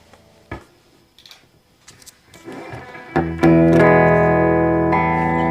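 An electric guitar plays sparse picked notes and small scrapes, then lands a loud sustained distorted chord through a VvCo Afterlife analog distortion/fuzz pedal on the Vintage Distortion setting, ringing thick and close to the end.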